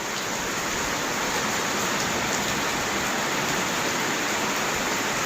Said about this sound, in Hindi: इस तरीके से बारिश हो रही है जी।